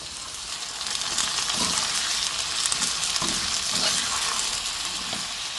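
Potatoes (aloo) hit hot oil with sautéed garlic, onions and pepper for crispy fried aloo, setting off a steady, close crackling sizzle that swells after the first second and holds evenly, with light stirring scrapes.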